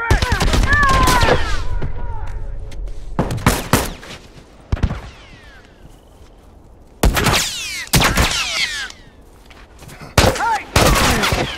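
Automated turret gunfire in The Last of Us cracks out in loud, sharp bursts separated by quieter stretches, with an echoing tail after the first volley and shouted voices around the shots.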